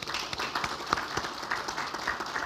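A church congregation at Sunday worship in Corrimal applauding, a brief, even patter of many hands clapping at moderate level with no voices over it.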